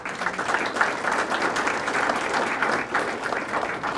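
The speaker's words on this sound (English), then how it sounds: "So a round of applause to Paul Grove and his staff." A dinner crowd gives a full, steady round of applause, with dense clapping holding evenly for the whole stretch.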